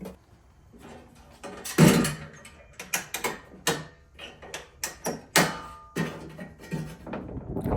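Hand tool ratcheting as the last bolt goes into a tailgate table on a sixth-generation Ford Bronco, with irregular close clicks and short bursts of mechanical clatter, fairly quiet with small knocks between.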